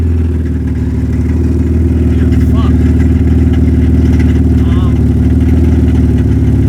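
A BMW E36 idles and drives with clutch chatter, giving a loud, close, rough rumbling engine drone with a rapid juddering pulse. It runs steadily throughout while people talk faintly over it.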